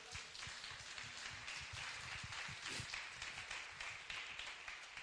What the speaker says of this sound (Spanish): Vamos a aplaudir al Rey de Gloria.